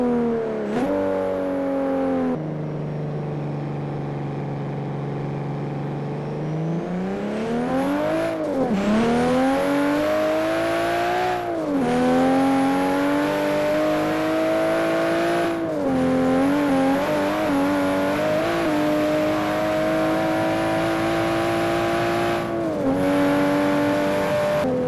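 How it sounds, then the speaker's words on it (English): A Lexus LFA engine in the Forza Horizon video game, with a high revving wail that rises and falls through repeated gear changes and downshifts, loud and continuous with no talking. "I'm driving the LFA, and when I downshift it, it really, like, you can feel the downshift, you can hear it well."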